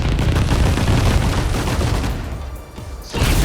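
Rapid volleys of multi-lock missiles firing and exploding in the mecha battle game 13 Sentinels: Aegis Rim, a dense, loud barrage of blasts that holds steady before thinning briefly and surging back.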